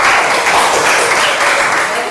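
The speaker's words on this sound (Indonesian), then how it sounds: "Tepuk tangan." A classroom of students claps together in a brief, dense burst of applause at close range, sustained for a couple of seconds.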